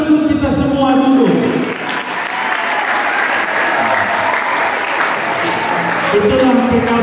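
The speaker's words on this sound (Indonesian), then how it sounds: "Maka tepuk tangan untuk kita semua dulu." Applause from a congregation at a school Easter thanksgiving mass, a loud sustained wash of many hands clapping that swells and holds for several seconds, with speech faintly at the start and end.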